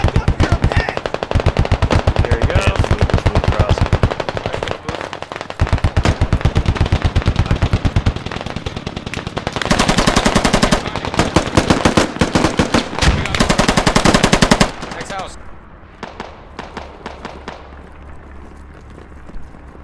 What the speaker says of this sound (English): He's right around the corner with an MG.